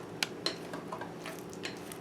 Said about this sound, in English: I like using spatulas again because you see just how easy you can just kind of scoop everything out